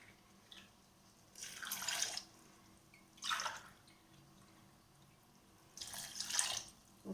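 Water poured in three separate bursts for apple cinnamon tea, a splashing flow into a vessel with quiet pauses between pours, close and moderately loud.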